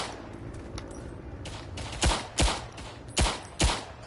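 Gunfire in a World War I trench video game: faint distant shots early on, then four loud, sharp reports spaced about half a second apart.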